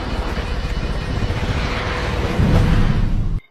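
Helicopters fly through a storm in the film Kong: Skull Island, a loud, steady engine and rotor roar that builds and then cuts off abruptly.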